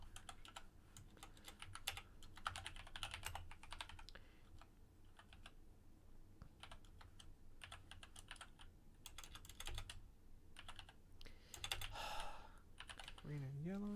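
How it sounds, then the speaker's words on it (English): Rapid typing on a computer keyboard, with bursts of close, crisp key clicks that pause and resume over several seconds under faint background sound, ending in a brief tonal blip. "typing while holding push to talk is not good"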